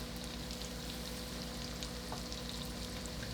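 Buffalo chicken tenders frying in a pan in batches give a steady, soft sizzle of hot oil that stays even throughout, with a faint low hum underneath and no talking.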